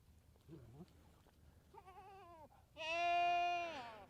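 Farm goats bleat three times, each cry longer and louder than the one before. The last is a loud, drawn-out wavering bleat close by in an otherwise quiet yard.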